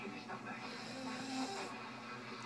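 A sleeping woman snoring softly, a faint raspy, hissing breath drawn in and out at close range in a quiet bedroom, low in level with no talk over it.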